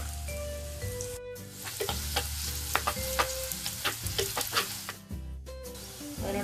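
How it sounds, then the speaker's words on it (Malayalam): Chopped ginger, garlic and green chilies fry in hot oil for a Kerala-style squid roast, giving a steady close sizzle with scattered stirring scrapes and clinks throughout. "എണ്ണ ചൂടായതിനു ശേഷം നമുക്ക് അതിലേക്ക് ഇഞ്ചി ചെറുതായിട്ട് അരിഞ്ഞത് 2 ടീസ്പൂൺ, വെളുത്തുള്ളി 3 ടീസ്പൂൺ ചെറുതായിട്ട് അരിഞ്ഞത്, പച്ചമുളക് ഇത് 3 തൊട്ട് നന്നായിട്ട് മൂപ്പിച്ചെടുക്കും"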